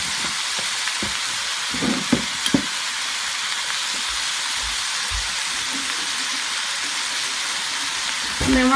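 Orange beef stir fry sizzling steadily in a hot pan as orange ginger and sweet and sour sauce go in, a constant hiss broken by a few soft knocks and scrapes of stirring.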